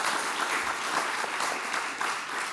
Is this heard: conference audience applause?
yes